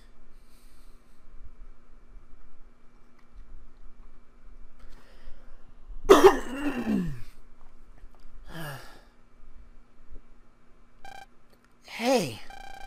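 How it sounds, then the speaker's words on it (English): A man coughs and clears his throat in two or three short, harsh bursts separated by quiet pauses, close to the microphone over a faint steady hum. "Sorry about all the coughing and clearing my throat."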